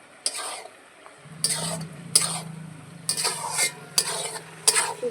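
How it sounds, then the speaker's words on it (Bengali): A spoon scrapes pumpkin and mixed vegetables frying in a pan, giving about six short, bright scraping strokes close by over a low, steady sizzle of oil. "সবজিগুলো আমার ভাজা ভাজা প্রায় হয়ে গেছে।"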